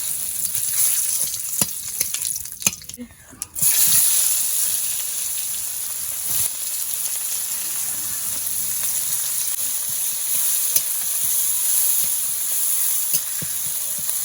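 Whole cumin, three dried red chillies and two torn bay leaves fry in hot oil for a duck curry, a loud, steady, close sizzle and hiss that briefly dips when something is added, then continues with faint stirring clicks.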